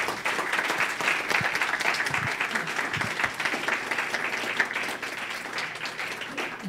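Sustained audience applause at a program presentation, a dense steady wash of many hands clapping throughout, with no clear talk over it.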